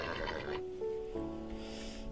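A horse in the Minecraft video game neighs with a clear, tonal whinny that rises and falls, heard alone and close at moderate volume.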